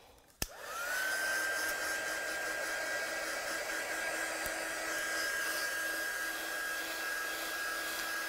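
A heat gun drying ink artwork switches on with a sharp click and settles into a loud, steady blowing roar with a constant high whine, running alone and unbroken to the end.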